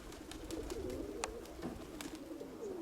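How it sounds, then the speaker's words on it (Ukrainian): Soft pigeon cooing from a female pigeon, low murmuring calls repeating close by over faint background noise, with no talk. "Ось цю голубку я йому підібрав."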